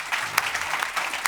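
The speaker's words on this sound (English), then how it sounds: "Please, big applause to Tim, Hans, Stuart, and Will." Audience applause at the close of a panel discussion on coffee cultivation: steady, dense clapping from a medium-sized crowd, moderately distant, with no talking.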